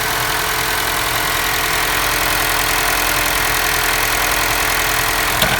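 A Chevy Cruze engine idles steadily and evenly after a valve cover, gasket and PCV valve replacement, a constant close mechanical hum with no voices, and a brief click near the end.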